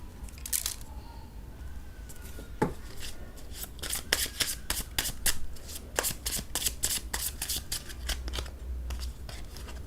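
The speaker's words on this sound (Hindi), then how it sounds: "कुछ और कार्ड्स लेते हैं।" Tarot cards being shuffled by hand, a close, rapid series of crisp riffling flicks and taps repeating steadily throughout, with no speech over them.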